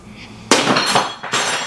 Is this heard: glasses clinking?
yes